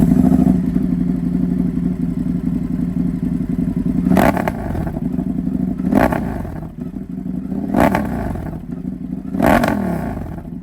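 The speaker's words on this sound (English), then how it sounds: "the sound of this Toce setup, it never gets old" A V-twin motorcycle with a custom welded Toce exhaust idles with a deep rumble, then revs hard four times in evenly spaced, loud blips, each swelling and dropping back to a steady idle.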